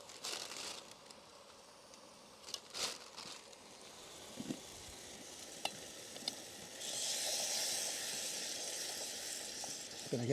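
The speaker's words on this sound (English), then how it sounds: "It's coming to the boil, so that's how much heat's coming through there." Cheesy pea curry bubbling and sizzling in a pot over a Trangia camping stove, a steady soft crackle that swells louder toward the end, with occasional stirring clinks.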